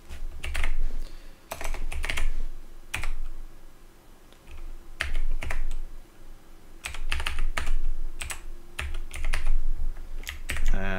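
Steady typing on a computer keyboard while entering a Linux server address, close clattering keystrokes in bursts with brief pauses between runs.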